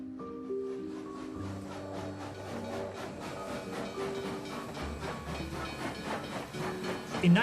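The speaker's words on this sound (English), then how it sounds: "In 1902, Alma's train headed to Constantinople" Steam train effect: a rhythmic chuffing and hissing locomotive with steady beats of escaping steam, soft and mid-distance, under low tonal music.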